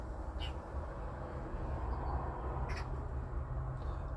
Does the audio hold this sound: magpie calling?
yes